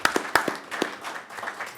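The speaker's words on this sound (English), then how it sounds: "Round of applause." Commissioner meeting attendees give a short round of applause, a small group's scattered claps, a few sharp nearby hand claps over softer fading clapping, fairly quiet overall.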